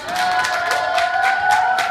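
An audience applauds and cheers for two speakers at the Gwanghwamun sit-in protest site, a loud, close crowd with scattered claps and raised voices blending into a sustained, lively roar.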